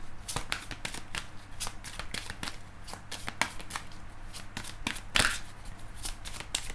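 Tarot cards being shuffled by hand make a steady series of crisp, close riffling slaps and flutters with brief pauses, quiet and alone with no talking.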